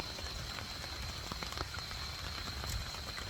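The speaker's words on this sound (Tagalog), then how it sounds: "Nag-start nag-ulan." Rain beginning to fall at night at a campsite in Toril, Davao City, a steady patter of drops with scattered louder ticks over constant background hiss.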